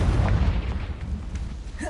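A Confringo blasting spell from the video game Hogwarts Legacy lands as a deep, rumbling boom that fills the whole moment, heavy low roar with a crackling tail and no voices over it.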